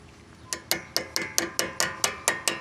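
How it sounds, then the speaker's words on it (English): A small hammer taps a brake pad into place during a brake pad and rotor change on a vehicle: about ten sharp, evenly spaced metallic taps, close and clear, with no talking. "Use our handy dandy little hammer. Just easy taps,"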